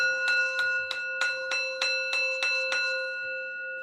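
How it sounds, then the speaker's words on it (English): A struck bell rings nine times in a steady rhythm, each bright metallic strike sustaining a clear ringing tone that overlaps the next and fades gradually after the last hit, close and fairly loud with no talking. "I gotta hit the bell on that one."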